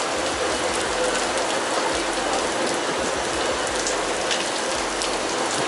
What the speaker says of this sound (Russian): Полил ливень.